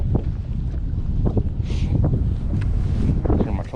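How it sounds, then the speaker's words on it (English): Stout wind blows across open water on a winter crappie fishing boat, a steady rushing buffet against the microphone throughout, with a voice briefly audible beneath it. "Wind is stout today."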